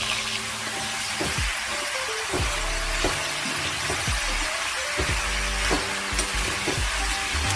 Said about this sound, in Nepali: तेलमा राखेर यसलाई एकछिन भुट्छु